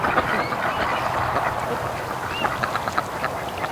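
Ducks quack in irregular bursts across a small flock swimming, diving and feeding on a pond, set against a steady wash of background noise, with no talking.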